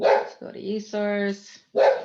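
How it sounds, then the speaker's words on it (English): A dog barks a few times close by, with short loud yaps and a sustained whiny vocal tone, mixed in with a person speaking over a video call. "Sorry about my dog."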